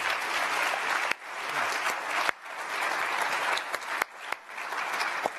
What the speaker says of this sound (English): how about a nice round of applause for Ben,